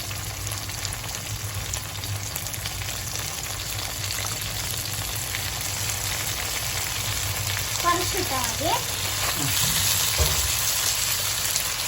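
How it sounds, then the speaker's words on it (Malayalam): Chilli chicken frying dry with chilli sauce and soy sauce in a pan, a steady close sizzle with a few stirring scrapes near the end, no talking. "ചില്ലി സോസും സോയ സോസൊക്കെ നല്ലതുപോലെ മിക്സ് ചെയ്യുക."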